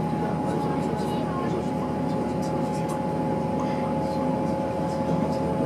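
Steady low rumble and broadband running noise inside a Great Western Railway Hitachi 800 passenger train travelling from Cardiff toward Swansea via Bridgend, continuous and fairly loud throughout with no clear talk over it.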